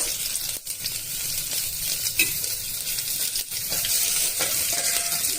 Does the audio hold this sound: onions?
yes